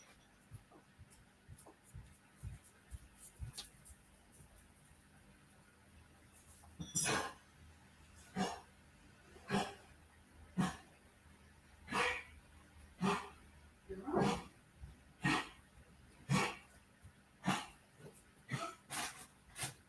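A dog coughs and hacks in a repeated series of short, sharp bursts, close and fairly loud, following a quieter stretch of faint rustling.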